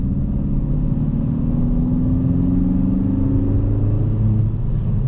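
A 2024 Kia Forte GT's 1.6-liter turbocharged four-cylinder accelerates hard from inside the cabin, its loud droning engine note climbing steadily in pitch over a constant road rumble.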